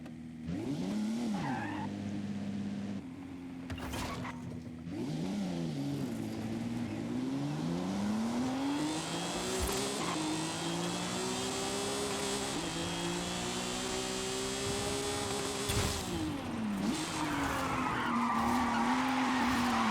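A car in Forza Horizon 5 drifts with long, continuous tire squeal and a wailing engine whose pitch rises and falls through the slides, heard loud and close with no talk over it.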